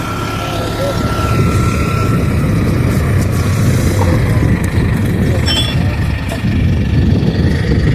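A relative's tractor engine runs loud and steady nearby for the whole stretch, a continuous low mechanical drone with faint voices underneath.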